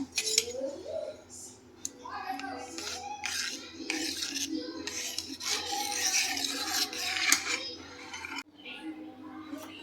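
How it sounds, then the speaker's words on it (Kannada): Milk powder and cornflour stirred together in a pot for mango ice cream, a steady scraping and rasping of utensil against the pot that runs continuously, close and fairly loud, with a brief pause near the end. "ಮಿಲ್ಕ್ ಪೌಡರ್, ಕಾರ್ನ್ಫ್ಲೋರ್ ಇದಿಷ್ಟು ಹಾಕಿ ಚೆನ್ನಾಗಿ ಮಿಕ್ಸ್ ಮಾಡಬೇಕು."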